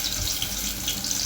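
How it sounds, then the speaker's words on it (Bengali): Chopped onions fry in hot oil in a pot, giving a steady, close sizzle that hisses evenly for about a second without talk. "এবার পেঁয়াজ একটু হালকা ভেজে নেব।"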